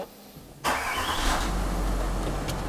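A Range Rover 4.4 TDV8 diesel engine fires up after quiet cabin background and settles into a smooth, steady idle with a low rumbling hum, heard close from inside the vehicle with no talking.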